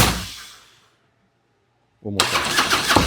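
A Harley-Davidson Road Glide motorcycle engine with a pulled choke, freshly fueled after not running, cranks and fades out, then after a silent gap fires up loudly and runs rough, with voices talking over it.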